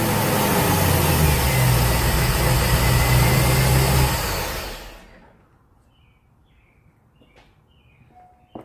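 An untuned car engine fitted with 60-pound injectors runs loud and broadband for about four seconds, then dies away into near silence with faint bird chirps after shutoff.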